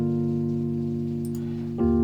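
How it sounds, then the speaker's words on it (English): A Rhodes-style electric piano from the Kontakt Factory Mark I classic patch holds one sustained chord, then shifts to a second chord near the end, warm and close with no talking. "which you start to hear on the Rhodes at the intro, which sound like this."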